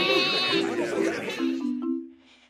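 A sheep bleats in a loud, wavering, drawn-out cry that breaks into a few shorter quavering notes before fading away.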